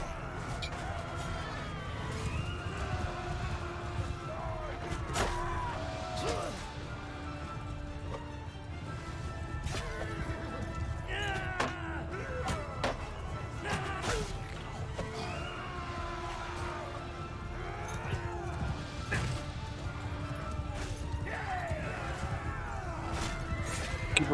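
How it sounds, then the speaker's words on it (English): Horse hooves and whinnies mix with busy, layered game sound effects and clashing noises in a steady, dense stream throughout, from the video game Bannerlord. "Keep running into frickin' horses."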